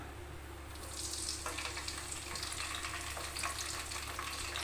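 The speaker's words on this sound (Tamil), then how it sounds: "இப்போ வந்து எண்ணெய் காஞ்சிருச்சு கருவேப்பிலை போட்டுக்கலாம்" Curry leaves hit hot oil for tamarind rice tempering, a soft crackling sizzle building and continuing over a low background hum, with no voices.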